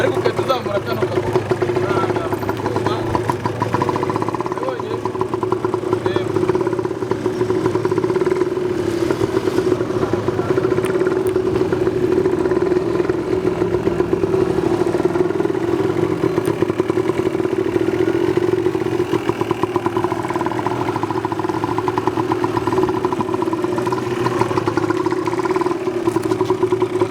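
A motorcycle engine runs steadily with a constant mid-pitched hum and light mechanical clatter. It is close and even for nearly half a minute, and a voice talks over it.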